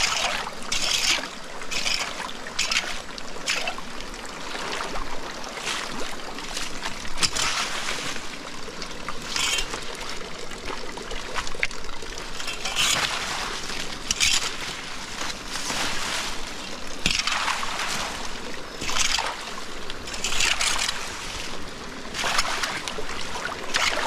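A year-round forest creek flows steadily nearby with a broadband rushing and trickling texture, continuous and fairly loud throughout, with no voices over it.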